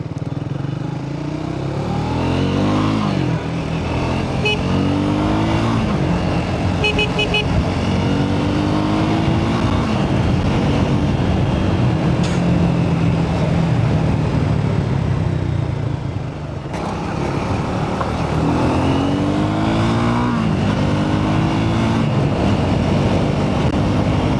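A motorcycle rides along the Palitana-Gariadhar highway with a steady engine drone and heavy wind rush, the pitch rising and falling with gear changes and a brief dip mid-ride, near and loud throughout.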